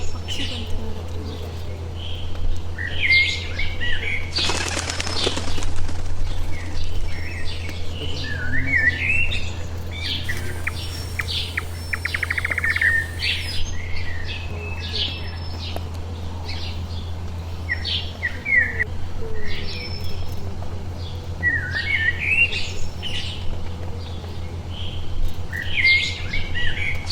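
Birds chirp and tweet in short repeated bursts across a Kabini forest safari, calls coming from several directions at moderate distance over a steady low engine-like hum and one brief rustling burst.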